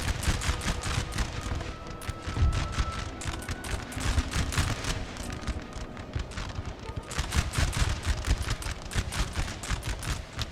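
Dense cannon and musket fire from a Napoleonic-era battle in the strategy game NTW 3, a continuous crackle of volleys with heavy booms, loud and sustained with a slight lull midway before intensifying again.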